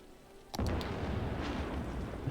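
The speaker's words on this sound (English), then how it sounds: "Yeah, that's thunder." Thunder in the city-building game Cities: Skylines: a sudden sharp crack followed by a rolling, sustained rumble that lingers for about two seconds, moderately loud and alone.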